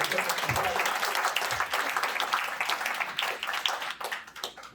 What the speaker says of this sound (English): Please give them one last round of applause.